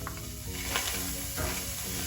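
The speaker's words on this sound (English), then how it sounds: "I'm gonna throw the onions in. You should hear them already starting to sizzle." Onions sizzle and crackle steadily in a hot pan, close up, a continuous frying hiss with faint stirring.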